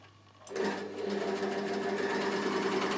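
A Bernina L450 overlocker stitches back over fabric, starting after a brief quiet moment with a steady, loud mechanical whir and hum that runs evenly to the end, close by with no talking.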